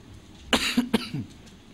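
A short burst of coughing from an audience, two or three quick harsh coughs, heard at moderate distance in a quiet room.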